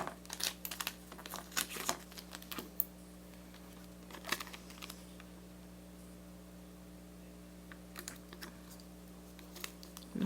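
Fingertips rubbing a vinyl decal onto a Christmas ornament, giving soft, close crinkling and scratchy friction bursts in short irregular strokes over a low steady hum.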